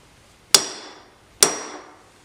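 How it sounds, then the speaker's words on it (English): A hammer strikes a steel center punch twice, each a sharp, close metallic tap about a second apart that rings briefly and decays. "we're going to be using a center punch and a hammer"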